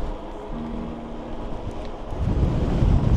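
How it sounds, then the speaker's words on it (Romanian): Steady broadband wind roar from a strong headwind on a steep mountain-road descent on the Transalpina, buffeting the microphone, growing louder and rougher toward the end, with no voices. "Și bate și vântul din față."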